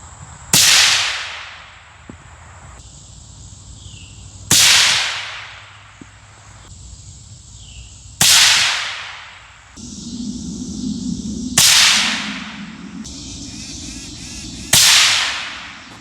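Suppressed hunting rifle shots on a range, five sharp loud cracks at roughly three-second intervals, each followed by a decaying echo, with quiet background noise between them.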